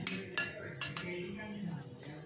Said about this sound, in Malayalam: കുറച്ച് നേരത്തെ എടുത്ത് വെച്ച ഒരു സ്പൂണ് തരി കൂടി ചേർത്ത് നല്ലതുപോലെ ഒന്ന് ജോയിൻ്റ് ചെയ്ത് കൊടുക്കാം